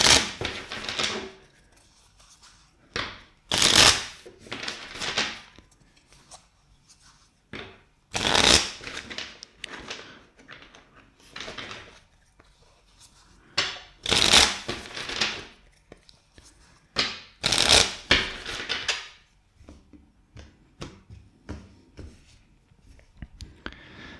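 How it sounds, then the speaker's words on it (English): Deck of tarot cards shuffled by hand several times, each shuffle a short burst of crisp riffling flutter separated by quiet pauses and softer handling rustles, close and clear. "First, let's shuffle the deck four times."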